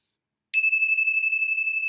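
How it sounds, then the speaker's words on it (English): A single bell struck to close a meditation session rings out clearly and alone, a bright strike followed by a long, steady sustained tone that hangs without fading. "I'm going to close our time together with the ringing of the bells."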